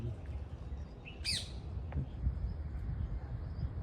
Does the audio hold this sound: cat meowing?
no